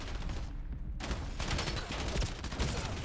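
Loud, rapid gunfire rattles in a shooter video game, with overlapping bursts and automatic fire running continuously without pause.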